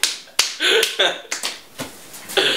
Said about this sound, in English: I just keep clapping.